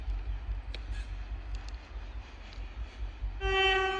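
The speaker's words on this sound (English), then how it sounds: "Oh, it's a train." A train passes at a distance near a trail in Shepherds Hills Recreation Park, Australia, with a low steady rumble throughout and a sustained horn blast sounding near the end.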